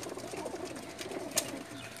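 A female pigeon on a rooftop loft coos in a soft, low continuous murmur, with a brief sharper click near the end.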